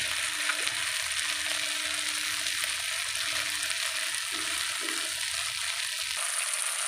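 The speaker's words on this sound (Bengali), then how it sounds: "মশলাটা ভালো করে কষিয়ে নিচ্ছি" Spice masala frying in a pan sizzles with a steady, bright hiss, overlaid with intermittent scraping and stirring sounds, close and even in level without any talking.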